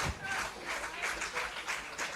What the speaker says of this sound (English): The crowd very much involved. Very much clapping